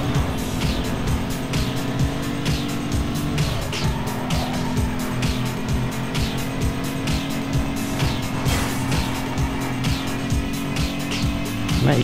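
Continuous game car engine drone in Need for Speed Underground 2, loud and steady throughout, with brief tire squeals and skids as the car races, alone without talk.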